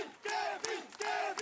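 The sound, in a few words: fan club cheering for cyclist Kevin Pauwels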